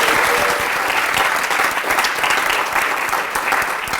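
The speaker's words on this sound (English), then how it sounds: "Let's give a huge round of applause to our newly pinned CNAs." An audience at a high school health care technology pinning ceremony applauds the newly pinned CNAs, loud dense clapping that holds steady from start to finish without letting up.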